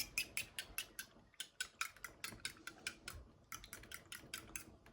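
Rapid rhythmic clinking of a fork beating eggs on a plate, quick repeated strokes close by, with a short pause midway.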